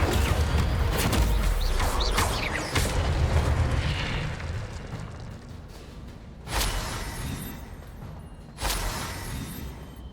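An Incendio fire spell cast in Hogwarts Legacy, giving rumbling, crackling blasts with two sudden bursts late on, followed by a fading roar and no talking.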